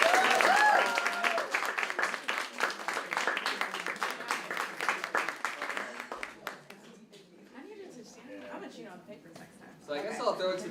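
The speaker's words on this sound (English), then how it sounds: "let's get one more round of applause" Audience applause at a short film challenge screening, dense clapping that gradually thins and fades over several seconds, with voices talking across it and a brief pickup of claps near the end.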